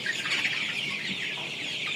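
Sonali chickens raised for meat cluck and chatter in a dense, continuous flock murmur, moderately close, with no talking over it.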